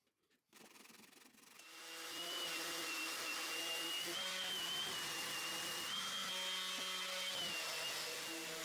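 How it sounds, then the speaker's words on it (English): Glued wood dowels are cut and sanded flush on a 2x4 chair build, mostly a steady, close, abrasive power-sanding whir after a brief quiet start. "Cut and sand them flush."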